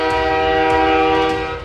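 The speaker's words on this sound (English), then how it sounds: "I jolted upright to the loud rattle of a train." A train sounds loudly and close by, with a steady, blaring horn-like tone held for under two seconds over a low rumble, fading slightly at the end.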